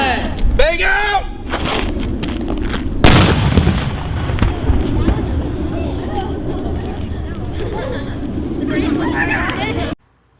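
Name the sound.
police flashbang device thrown and exploding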